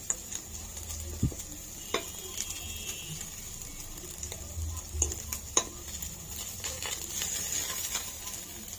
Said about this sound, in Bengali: চিকেনগুলো লাস্টে আমি দেখতেই পাচ্ছেন একটু কড়া করে ভেজে নিচ্ছি, ভালো মতন ডিপ ফ্রাই যেটা বলে